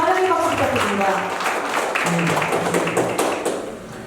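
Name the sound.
welcoming applause at a tourism association general meeting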